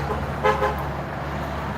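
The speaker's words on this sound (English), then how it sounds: "Hey, we got a honk. Someone's honking." A car horn on a street in Montecito, California gives a short double toot at moderate distance over a constant low traffic hum.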